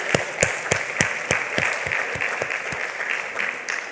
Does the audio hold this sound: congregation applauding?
yes